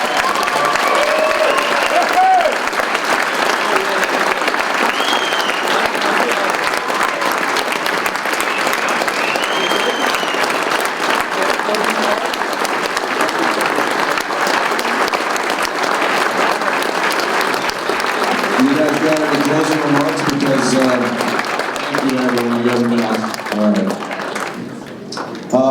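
A Blue Jays Hot Stove audience in Fort McMurray gives Kevin Pillar and Chris Colabell loud, sustained applause, with cheers and whistles throughout and voices rising over the clapping toward the end.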